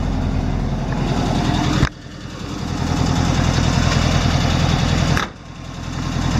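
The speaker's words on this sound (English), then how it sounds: "there's that engine purring away" A small air-cooled engine in a 1963 Volkswagen Campmobile idles steadily with a loud, even rumble, engine lid open, briefly dipping twice as the idle shifts, then settling back.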